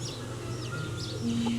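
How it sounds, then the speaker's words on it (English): Small chicks and chickens at a petting zoo give soft, faint high chirps and clucks over a steady low background hum, with no talk over them. "There's a little baby chicken here."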